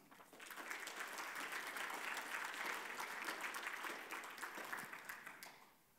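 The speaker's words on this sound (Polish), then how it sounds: "Ogromne brawa." Steady applause from an audience at an awards and thank-you ceremony on stage, a soft, even wash of many hands clapping that swells and then tapers off toward the end.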